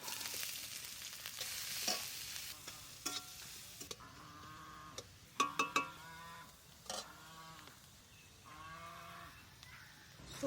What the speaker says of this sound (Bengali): আদা আর রসুনটা ভাজবো, আদা আর না, পেঁয়াজ আর রসুন দেবো